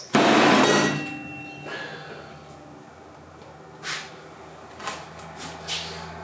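A hammer slams down hard through a book into a tabletop, one loud sharp impact at the start followed by a decaying ring and a few faint knocks and clinks afterward.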